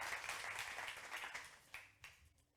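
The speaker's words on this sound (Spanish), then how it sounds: "Denle un aplauso al Señor, a ver." A church congregation applauds during a service, soft and somewhat distant, a dense patter of many hands that thins into a few scattered claps and fades.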